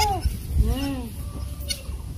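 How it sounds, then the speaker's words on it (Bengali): Goats and kids bleat up close in a small farmyard herd, several wavering calls in a quick cluster early on, with a person speaking over them. "এই দেখো চারটা পাঠি তিনটা পাঠি একটা পাঠা আছে ছাগল"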